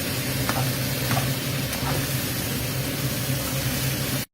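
Pork liver stir-frying over high heat makes a loud, steady hiss and sizzle with a few light scrapes of stirring, then cuts off abruptly at the end, with no voices.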